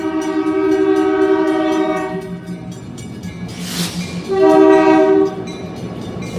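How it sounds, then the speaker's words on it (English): A train passes close by with a rumbling roar, sounding two long blasts of its horn, the second louder and nearer. "the train's gonna come out when I get across the street"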